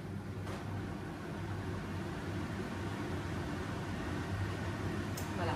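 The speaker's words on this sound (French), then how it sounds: "Voilà, vous entendez ma hotte?" A kitchen range hood fan runs at a normal setting, a constant broadband whoosh of moving air with a low hum underneath, steady and unbroken, with no voices.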